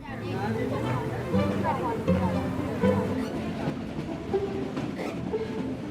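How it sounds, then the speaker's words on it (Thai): A train climbs slowly into the mountains of Myanmar, its rolling rumble and rhythmic clickety-clack carrying steadily beneath a voice talking throughout. "รถไฟเริ่มค่อยๆไต่ระดับขึ้นสู่ยอดเขาสูง"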